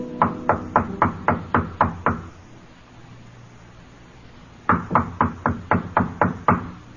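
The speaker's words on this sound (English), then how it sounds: "then knocks on the door" Knocking on a hotel room door in a corridor, two crisp bursts of about eight evenly spaced raps each, loud and close, separated by a short quiet pause.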